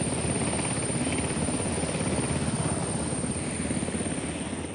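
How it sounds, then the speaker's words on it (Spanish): Steady, loud, close roar of an armed forces cargo helicopter in flight, its rotor chop pulsing evenly throughout and easing off slightly at the end, with no voices. "con helicópteros de carga de Fuerzas Armadas"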